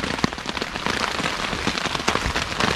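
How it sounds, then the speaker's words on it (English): Heavy rain downpour at a campsite, a dense close patter of drops drumming on a nearby surface, loud and continuous with scattered sharper hits. "So, it's raining pretty good. It's actually downpouring."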